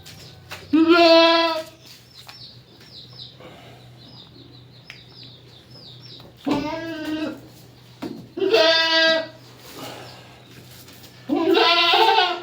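A mother goat bleats loudly near her newborn kid after delivery, four drawn-out wavering cries spaced several seconds apart, with faint higher bird-like chirps between them.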